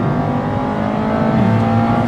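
A 2024 Mazda MX-5 Miata ND3 roadster drives along a winding road with a steady, moderately loud engine drone and road noise that lifts slightly toward the end, heard without talk.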